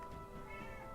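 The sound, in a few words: cat meowing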